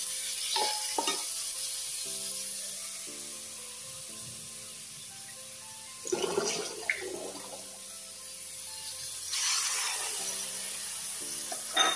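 Fish frying in oil, a steady hiss running throughout with a few louder bursts of crackle and spatter.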